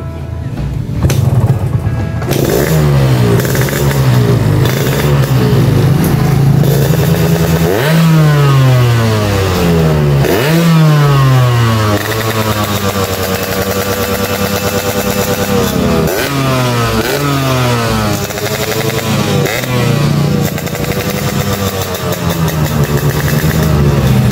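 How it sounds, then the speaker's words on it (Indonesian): A restored Yamaha RX King motorcycle, a Gold Limited Edition rebuilt with largely new parts, idles loudly and close up, with its steady two-stroke engine note swelling in repeated revs throughout and no talking. "suara mesinnya juga sehat"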